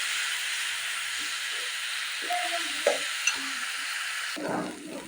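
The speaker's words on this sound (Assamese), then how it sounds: "এই মছলাখিনি মই ভালদৰে ভাজি ল'ম।" Onion, ginger and garlic paste masala frying in a pan for a mustard and yogurt fish curry, a steady close sizzle with soft stirring scrapes and a louder crackle near the end.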